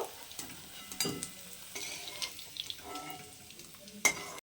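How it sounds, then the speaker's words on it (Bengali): Potatoes fry in oil in a home kitchen, making a soft, steady sizzle close by. Utensil scrapes and stirring clatter run through it, with a sharp clink of metal near the end before it cuts off. "আলুগুলোকে আমি লাল লাল করে ভেজে নেব"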